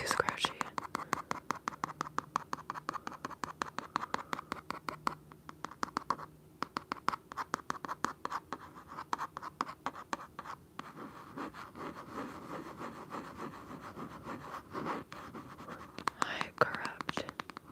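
Close, crisp fingernail scratching and scraping with long nails, dense repeated strokes for most of the stretch, with soft whispery texture between them.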